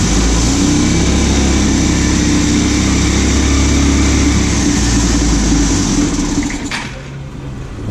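A Vespa scooter engine flooded with oil and fuel runs loud and steady with a rough, buzzy drone, then cuts out abruptly near the end.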